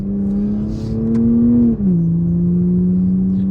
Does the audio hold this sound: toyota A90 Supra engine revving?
yes